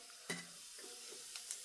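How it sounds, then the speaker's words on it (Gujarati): A spoonful of cumin seeds sizzles faintly in hot oil for a tempering, a soft, steady frying hiss with a couple of light clicks from stirring. "તો હવે આપણે એમાં આ જીરું નાખી દઈશું 1 ચમચી જેટલું"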